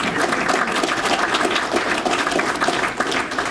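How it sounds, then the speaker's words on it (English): Audience at a university hall of fame induction ceremony clapping for a firefighter, dense sustained applause filling the room at steady volume for the whole stretch. "go ahead and give him a round of applause"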